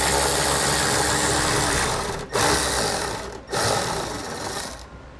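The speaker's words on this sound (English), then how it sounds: "We're going to do that to the factory ground point on the driver's side by removing this 10mm bolt." A power tool removing a 10mm bolt at the driver's side factory ground point of a 2018 Toyota, buzzing loudly and rapidly in close bursts with two brief pauses.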